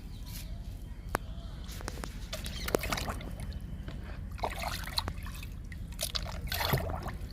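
Liquid trickles and dribbles into a ten-litre bucket holding five litres of water for dilution, a faint, steady pouring with scattered drips and light clicks.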